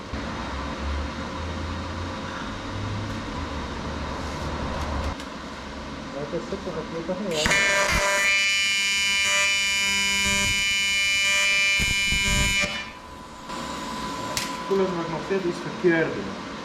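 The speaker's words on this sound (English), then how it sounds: "It's welding." Aluminium welding during a Jaguar D-Type build: a voice talks over low machine noise, then a loud, steady electrical buzz with a strong tone holds for about five seconds before cutting back to quieter workshop sound.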